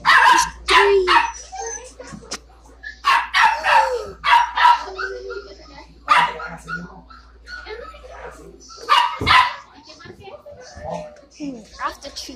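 Labrador puppies in a dog store barking, yipping and whimpering in short repeated bursts close by, mixed with people talking and a voice throughout.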